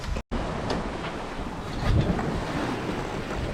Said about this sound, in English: We're sailing with the wing-on-wing configuration.